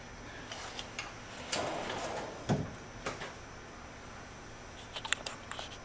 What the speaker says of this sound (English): here's the long drawer in the top of the lower section